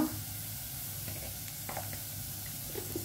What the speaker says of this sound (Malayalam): ഇതെല്ലാം കൂടി ജസ്റ്റ് ഒന്ന് മിക്സ് ചെയ്യുക, ഒന്ന് ചൂടാക്കുക.